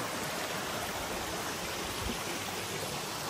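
A river on a short hiking trail rushes in a steady, full broadband wash of flowing water, loud and continuous with no voices over it.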